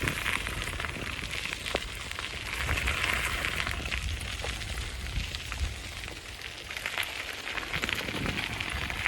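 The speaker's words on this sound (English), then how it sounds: "It's going to keep drizzling on me." Light drizzling rain patters steadily and faintly outdoors during a bikepacking ride on a folding bike, a soft, continuous crackling hiss with no voices.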